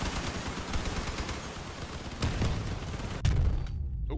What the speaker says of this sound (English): I just got hit by a cannon.